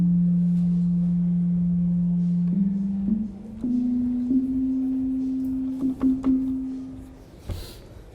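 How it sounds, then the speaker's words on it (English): A clear, steady tone from a Bitwig phase synthesizer, gliding up in small steps as the knobs move, with a short burst near the end; loud and alone, no voices. "what we've got going on is a clear sine wave"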